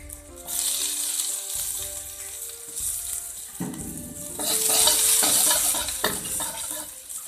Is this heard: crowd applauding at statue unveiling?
no